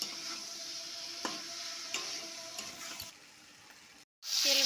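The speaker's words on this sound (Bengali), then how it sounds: "এবার এতে দেওয়া হচ্ছে পটল, ভেজে রাখা পটল আর আলুগুলো দিয়ে ভালো করে নাড়িয়ে চাড়িয়ে নেওয়া হচ্ছে।" Fried pointed gourd and potatoes being stirred in a hot oily pan: a steady sizzle with light scraping strokes that fades lower, cuts out briefly, then returns loud.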